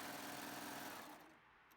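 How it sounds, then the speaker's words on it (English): A serger sewing machine runs a steady, fast mechanical whir while stitching over a seam on a tablecloth, then winds down and fades near the end. "as I continue to serge"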